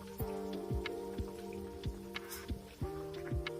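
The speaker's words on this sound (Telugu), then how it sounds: "ఇప్పుడు దీనిలో రవ్వ వేసుకుందాం." Wheat rava (semolina) poured into boiling water in a cooking pot, heard as a steady run of close, wet plops and bubbling drips with no talking.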